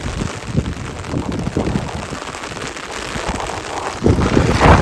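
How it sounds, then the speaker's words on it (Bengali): Gusty wind roars against the microphone in uneven surges, with a faint patter of light rain beneath, growing louder near the end. "প্রচুর বাতাস, বৃষ্টির কম, কিন্তু বাতাসটা বেশি"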